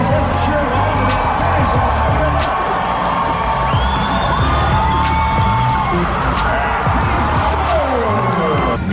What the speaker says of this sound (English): West Palm Beach, make some noise